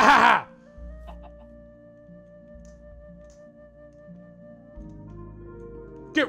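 A Minecraft chicken gives a short cluck at the start and another at the very end, with a steady musical drone and low game hum in between.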